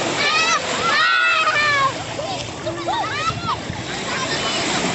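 Small waves splash and slosh at Air Salobar beach in Ambon on a Sunday afternoon while people bathe, close watery splatter mixed with lively voices and children chattering over it.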